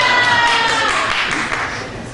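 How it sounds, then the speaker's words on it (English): Audience at a 2010 Auburn dance show cheers and claps in a steady, dense wash of applause that fades slightly toward the end, with crowd voices mixed in. "They're still cheering for that."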